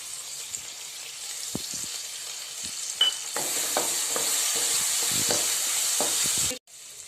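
Soaked moong dal sizzles as it drops into hot oil seasoned with turmeric and asafoetida, a steady close frying hiss punctuated by scattered pops and stirring clicks, cutting off abruptly near the end.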